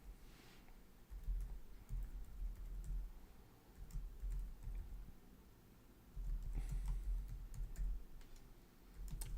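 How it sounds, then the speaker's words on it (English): Keys clack steadily on a computer keyboard during data entry for a credentialed vulnerability scan setup, a close, fairly quiet run of rapid taps with brief pauses. "we're going to type in our information here again"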